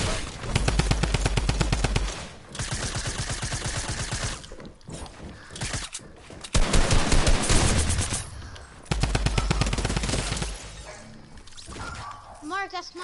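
Automatic gunfire from a drum gun and an SMG in a video game, with long rapid bursts broken by short pauses, loud and close, while players talk over the shooting.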